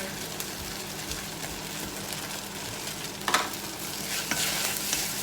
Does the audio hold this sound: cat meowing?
no